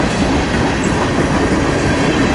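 A westbound Norfolk Southern freight train rolls past on Main 1 of the Harrisburg line at CP Wyo, a steady, loud rumble with continuous wheel clatter from the passing cars.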